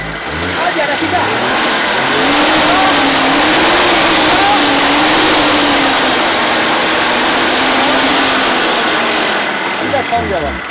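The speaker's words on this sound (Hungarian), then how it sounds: "3 év állás után elindítottuk a Wartburgot." A Wartburg car engine, started after three years of standing, runs at a loud, rough, steady idle that swells slightly, with people talking nearby.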